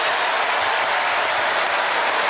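Steady, loud applause from a college basketball crowd at a Notre Dame vs. Wake Forest ACC game fills the arena as Brandon Childress takes his senior-day curtain call, a dense continuous clapping wash.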